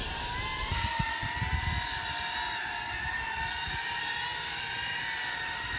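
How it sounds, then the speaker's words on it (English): Small consumer drone hovering and flying low outdoors, a steady high-pitched propeller whine and buzz holding level throughout, fairly close, with no talk over it. "That's my drone."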